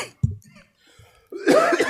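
A council member coughs during a city council meeting, a sharp single cough near the mic followed by a louder rough burst of coughing or throat noise, close and brief.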